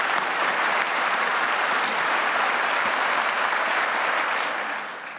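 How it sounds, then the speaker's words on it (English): Sustained applause from a lecture audience, dense and even for about five seconds, then starts to fade at the end. "You can clap for that too."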